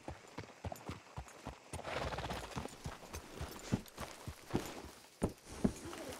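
Hooves clop at a slow walking pace in Red Dead Redemption 2, a steady series of hard knocks with a brief rustling swell partway through.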